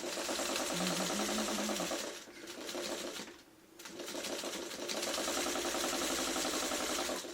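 Sewing machine stitching quilt block pieces, a close, steady rapid whirr that slows and dips briefly mid-clip before running on at full speed.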